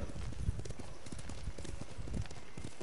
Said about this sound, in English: I keep forgetting I can't jump with the horse.